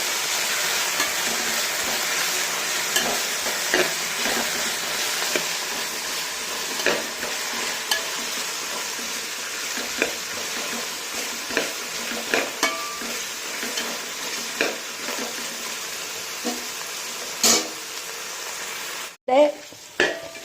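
Vegetables being sautéed in a pan with turmeric and salt, a constant sizzle under repeated spoon strokes and light scrapes, close up, ending in a sharp knock.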